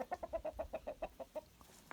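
Roosters cluck in a rapid, evenly spaced series of about a dozen short calls, fairly faint and close by, with no talking over them.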